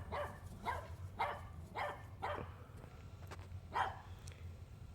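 A dog barks six or seven times in a loose rhythm, moderately close, over a low background hum.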